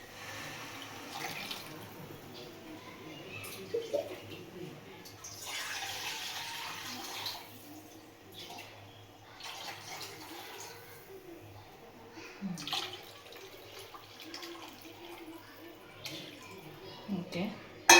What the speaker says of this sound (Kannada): ಇದ್ರ ಜೊತೆಗೆ ಇನ್ನು ಸ್ವಲ್ಪ ನೀರು ಮಿಕ್ಸ್